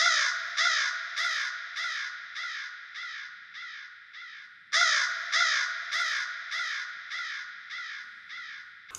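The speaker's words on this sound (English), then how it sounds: "It is a crow sound and kind of fits the vibe of like spooky" A crow caws repeatedly in two rapid runs of harsh, evenly spaced calls, loud and close, each series fading slightly toward its end.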